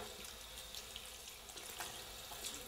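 A tap runs steadily into a sink while a ferret is bathed, with a constant broadband splashing hiss and no talk.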